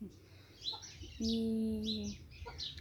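Chickens are being fed nearby, with short chirps and clucks scattered across the moment, a sustained tonal call in the middle, and faint voices in the background.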